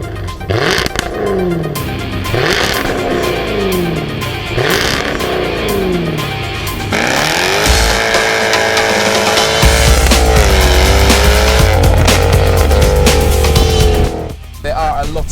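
A Jaguar F-Type R Coupe engine revs hard in repeated rising and falling bursts, then settles into a loud, sustained roar close by.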